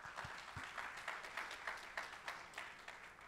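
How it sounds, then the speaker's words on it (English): A short, faint burst of audience clapping at a tech summit, soft and distant, with scattered claps over a quiet room. "One quick round of applause for all of our partners here in attendance"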